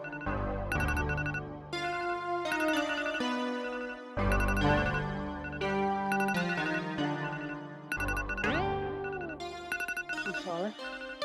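A phone plays a melodic ringtone, loud and close, with a bright repeating tune that keeps going with short breaks for about eleven seconds.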